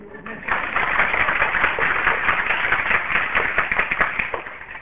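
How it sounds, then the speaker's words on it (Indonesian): A church congregation applauds during a sermon, a dense, steady patter of many hands clapping close by for several seconds, with scattered voices mixed in. "tepuk tangan lebih keras dong"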